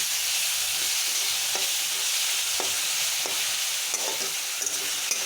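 Mushroom frying in a pan with grated onion and sliced green chillies gives a steady close sizzle and hiss, punctuated by occasional soft scrapes and taps of stirring, with no talk.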